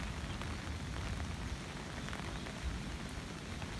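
Steady rain from a typhoon in Hong Kong patters on a surface in a constant, even hiss, with no voices and no change in intensity.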